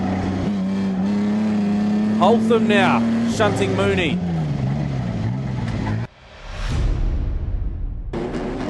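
Speedway race cars on a dirt oval revving and surging past the grandstand, engine tones climbing and falling loudly beneath a commentator's excited voice, with a sudden dip before the roar swells again.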